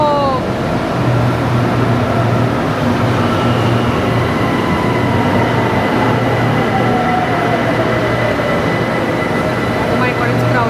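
A Bangkok BTS Skytrain train rumbles steadily through an elevated station, a loud continuous rolling drone with squealing wheel and motor tones, and people talk faintly over it.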